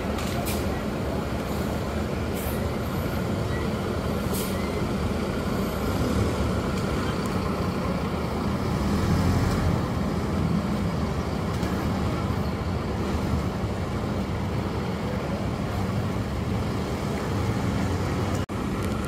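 Intercity bus BL06 'Chakra' of Blue Lane pulling away from a terminal, a steady low engine rumble with roadway noise that holds for about nineteen seconds amid other vehicles.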